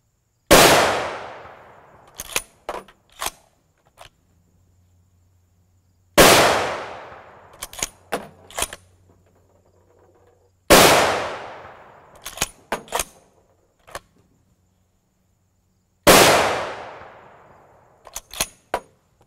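Four very loud, sharp .338 Lapua Magnum rifle shots firing 300-grain S&B loads, spaced about five seconds apart. Each blast decays in a long echoing tail followed by quick metallic clanks and clicks of bolt handling.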